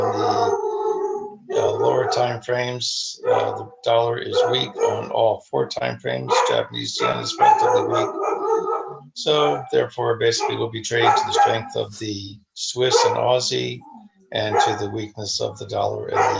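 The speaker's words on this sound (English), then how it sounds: "Then excuse the dog for barking in the background." A dog barks repeatedly in the background, sharp intermittent yaps scattered beneath a man's steady, continuous talking in the foreground.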